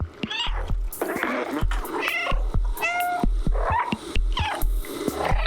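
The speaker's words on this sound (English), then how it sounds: "you just spend the entire cutscene spamming the meow button" A cat meows repeatedly in the video game Stray, with many short, close, fairly loud calls in quick succession, some of them drawn out and wailing, over a steady low thumping game soundtrack.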